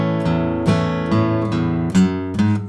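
Acoustic guitar intro riff for a song from Robin Hood, in a beginner lesson, strummed chords with rhythmic accents roughly every half second, bright and close, played alone without talking.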